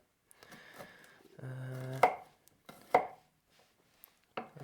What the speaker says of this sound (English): And then I'll chop the rest of these